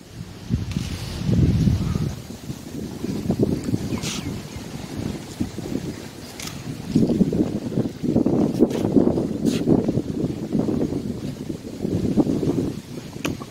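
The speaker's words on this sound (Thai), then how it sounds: "ฟังเสียงลมนะในธรรมชาติเราเนี่ย" Strong cold morning wind gusts through a canal-side garden with swaying trees at Sattahip, a continuous roaring rush that swells and eases in waves with no voices.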